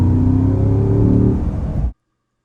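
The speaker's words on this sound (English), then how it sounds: "There's something about a naturally aspirated German V8 that sounds like no other car." A Porsche's naturally aspirated German V8 growls loud and close in a dense, rumbling note, holding steady for under two seconds before cutting off abruptly into silence.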